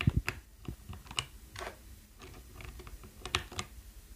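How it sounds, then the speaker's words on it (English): Plastic keycaps clicked back onto a mechanical keyboard's switches, a run of sharp, close taps and snaps arriving in uneven bursts with short pauses between them. "I'm just gonna put the keycaps back on."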